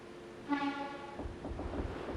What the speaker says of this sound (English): Press OK to sound your horn.